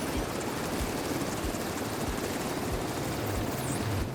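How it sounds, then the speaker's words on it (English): Helicopter rotors thud steadily through a continuous roar in a video game battle in The Division 2, loud and constant throughout with no speech over it. "The helicopters just drop people everywhere."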